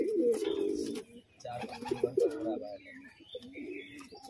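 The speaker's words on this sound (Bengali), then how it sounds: "এটা একটা নর পায়রা" Male Garambaji pigeon cooing in a loft, a close series of low, throaty coos and rolling calls, with softer bird sounds around it.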